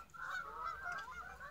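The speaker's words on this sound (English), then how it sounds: "Here we go. Canada geese." Canada geese honking, a short burst of nasal calls at moderate distance, clear and unaccompanied by talk.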